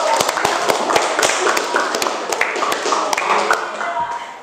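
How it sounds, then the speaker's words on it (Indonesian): Students in a classroom clap their hands in a brisk, loud burst of sharp slaps that carries on for several seconds without pause. "Tepuk tangan dulu"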